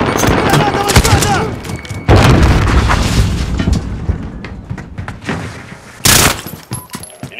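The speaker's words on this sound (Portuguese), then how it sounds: "Granada lançada!" Grenade blast in Call of Duty: Modern Warfare multiplayer on Hackney Yard, a loud sudden boom standing out amid steady gunfire and bursts of automatic weapons, with game chatter around it.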